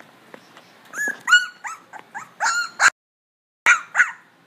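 A dog named Cash whimpers and yips from inside a crate, a series of high, wavering whines and short cries in bursts, close and fairly loud, with a brief silent pause before two more whimpers.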